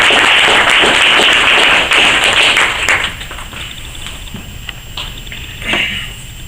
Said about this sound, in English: So if you could welcome him with a round of applause.